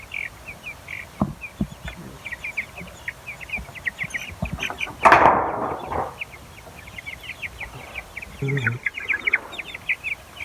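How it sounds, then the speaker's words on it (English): A chicken hidden inside a feeder clucks in short, scattered bursts among chirpy bird calls, with one louder flurry of flapping or rustling midway, all fairly close with no talking. "There's a chicken inside the feeder"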